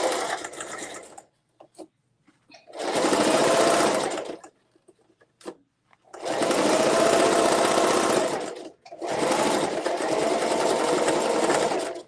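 A sewing machine runs a half-inch seam around a zipper tote bag in three loud, steady bursts of rapid stitching, separated by short pauses with small clicks and handling noises.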